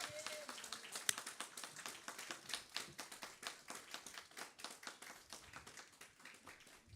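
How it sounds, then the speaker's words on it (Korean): Clapping in a church during a Sunday worship service, a small group of hands striking in a fairly even, rapid rhythm that sounds distinct and moderately close. "경례 박수 주세요."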